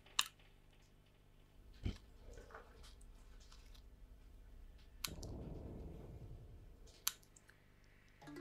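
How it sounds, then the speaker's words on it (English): Cuticle nippers snip excess material off a homemade crystal, giving a few sharp, isolated clicks spaced seconds apart over a quiet background with no talking. "I'm going to use the cuticle nippers just to trim off any excess."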